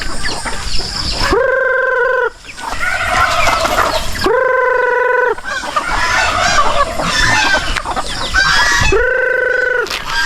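Chickens cluck and squawk close by, with a rooster crowing loudly three times over the busy clucking of the flock.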